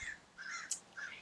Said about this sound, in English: Oh, I hear some birds. In real life.